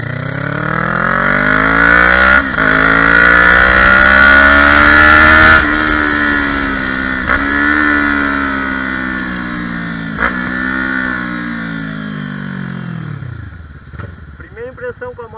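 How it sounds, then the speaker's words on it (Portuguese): A Kawasaki Z400 motorcycle engine revs up and down through the gears while riding, loud and close, with a few sharp throttle blips and a fading idle at the end. "Test ride da Z400. Fui ali na Kawasaki pra dar uma olhada na moto."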